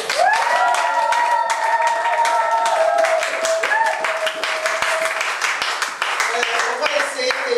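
A church congregation applauding in rapid, dense clapping that runs steadily throughout, with voices calling out and singing over it.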